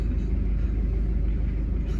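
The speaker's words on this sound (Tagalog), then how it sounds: "Baha ng mga sasakyan sa kalsada." Heavy road traffic in Baguio gives a steady, dense low rumble of many vehicles close by, an unbroken drone with no voices.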